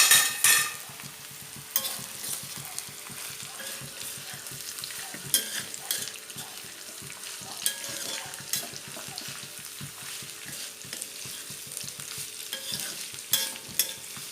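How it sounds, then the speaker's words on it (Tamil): Bitter gourd stir-frying in hot oil, with a loud sizzle and repeated scraping, stirring strokes against the pan at close range, continuous and busy, with no one talking. "இப்போ பாவக்காய் போட போகிறோம்."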